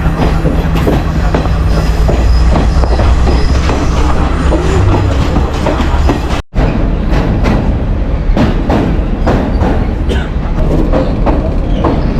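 A loud, continuous rumble of a train rolling along the tracks in Sri Lanka, with rhythmic clatter and rattling, heard up close for the whole stretch.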